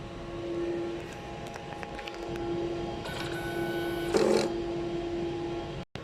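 A sublimation printer hums and whirs steadily as its head-cleaning cycle runs, with a louder grinding swell near the end before cutting out.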